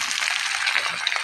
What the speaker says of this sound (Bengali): এখন আমি সবজিটা কাঁচামরিচ সহ ঢেলে দিলাম